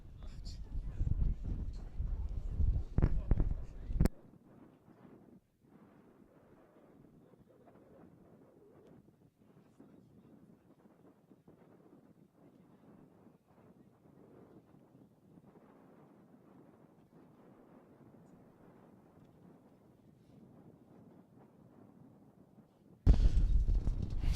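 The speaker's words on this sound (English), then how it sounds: "Tom, you didn't warn me that this is the windy city" Strong wind buffets a microphone at an outdoor cricket ground during a T20 final in Arkansas, with heavy rumbling gusts in the opening seconds and again at the very end around a quieter stretch, and speech is present.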